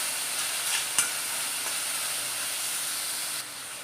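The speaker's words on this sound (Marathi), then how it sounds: "आपल्याला तेलामध्ये छान परतून घ्यायचं आहे" Capsicum and tomato sauté in hot oil with a steady, close sizzle and hiss, broken by a few stirring clicks and scrapes before the frying quiets toward the end.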